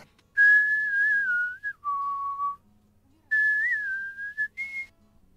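A woman whistles a melodic tune alone: clear, loud sustained notes in two phrases separated by a short pause, with no talking.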